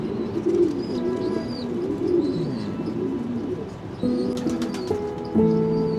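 Racing pigeons on a Shanghai rooftop coo in low, overlapping throaty calls, joined near the end by brighter chirps and a quick burst of wing flapping, close and clear without talk.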